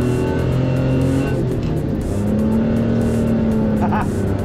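A home-built endurance race car with a slipping clutch drives on track, its engine droning loud and close at steady pitch with shifting harmonic tones throughout.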